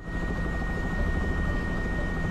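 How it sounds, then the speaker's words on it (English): A helicopter flying to an offshore oil rig in Louisiana roars loudly and steadily from inside the cabin, a dense, continuous engine and rotor drone with a fixed high whine. "We'll join helicopter pilot Lance Panapento as he takes us on a flight to an offshore oil rig in Louisiana."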